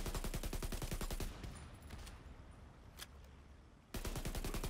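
Rapid rifle gunfire in The Division 2 rattles in quick regular bursts, pausing for a quieter stretch with a single shot before the rhythmic firing resumes loudly.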